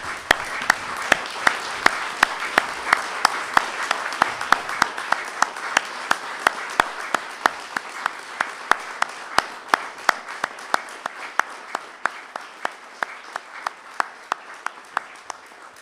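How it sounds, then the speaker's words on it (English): Audience at a public address by the Taoiseach stands and applauds, a dense, loud wash of clapping with sharp individual claps cutting through at a steady pace, sustained throughout and fading slightly toward the end. "Would you stand and applaud their determination?"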